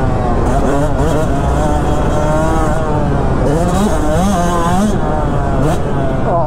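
A Yamaha YZ125X two-stroke dirt bike revs loudly on a test ride, rising and falling in pitch over a constant wind-blown drone.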